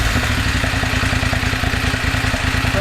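A BMW GS motorcycle engine idles loud and close with a steady, rapid, throbbing beat through a Dominator HP1 slip-on exhaust with decat pipe, baffle still fitted.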